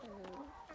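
A chicken in a small home flock gives a brief, faint burst of soft clucking, heard close but quietly over low background noise.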